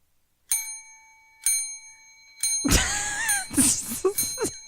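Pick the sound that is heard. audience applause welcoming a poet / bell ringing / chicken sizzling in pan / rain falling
bell ringing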